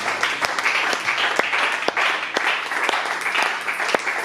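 A church congregation applauds during a service, sustained dense clapping with a few sharper claps for about four seconds, with no talking over it.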